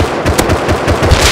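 Rapid automatic gunfire in the video game Rust, a tight burst of loud, closely spaced shots filling a short moment.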